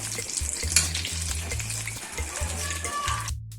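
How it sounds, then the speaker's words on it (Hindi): Triple layer chicken sandwiches deep-frying in oil give a continuous, close bubbling sizzle with a faint low hum underneath, cutting off abruptly at the end. "अब इस तरफ से हमने दूसरी साइड से इसको फ्राई करना है।"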